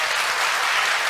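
A church congregation claps together in a steady, dense burst of applause filling the sanctuary, loud and continuous with no voices on top.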